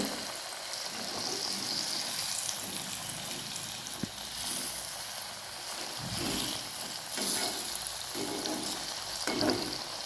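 Banana pieces roast in a hot pan, giving a steady broadband sizzle and crackle throughout, with a few soft knocks as pieces are flipped to the other side; no one speaks.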